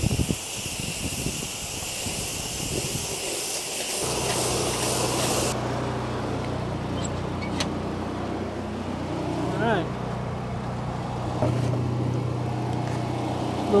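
A Flow Pro washing system sprays water to rinse oxidized gutters, a steady hissing spray at close range with a low motor hum running underneath throughout.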